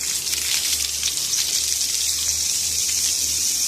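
Water from a simple garden pipe drives a small 3D-printed hydro turbine, giving a steady, continuous hiss and gush of spraying water with a low hum underneath, close and unbroken throughout.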